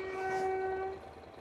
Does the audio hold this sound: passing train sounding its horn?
yes